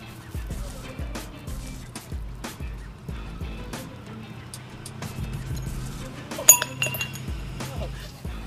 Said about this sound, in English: Erika, please lift your wine glass